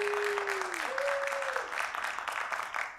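Audience applause, a steady crowd of clapping hands heard at moderate loudness with a voice gliding over it early on.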